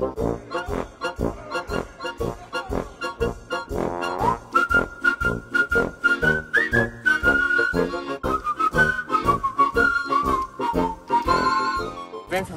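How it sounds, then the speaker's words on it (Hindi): A koel calling near a terrace garden with a pomegranate tree, its repeated whistled notes rising over a steady rhythmic pulsing background, fairly clear and continuous. "जितनी बार भी मैं अनार बोल रहा हूँ ना ये कोयल पीछे से बोलने लग जाती है"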